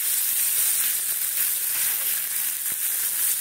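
Drumstick (sajne) leaves fry in a pan with a steady, even hiss of sizzling oil that runs throughout, close and moderately loud with no voices.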